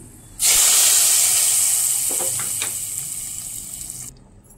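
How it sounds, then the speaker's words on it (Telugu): Tempering spices with garlic hit hot oil for gongura dal, bursting into a loud, sudden hiss that slowly fades over a few seconds before cutting off, with no voices. "ఇప్పుడు పోపు వేసేస్తున్నాను"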